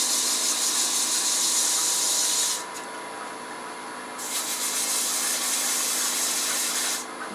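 Wooden headphone parts are sanded by hand with 120 grit sandpaper: steady, close, loud rasping strokes in two long passes with a brief softer break between them.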